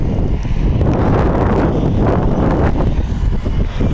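Strong, roaring wind buffets a cyclist rolling down a steep road between Nandyal and Kurnool, a loud, steady rush with gusty swells and no voices.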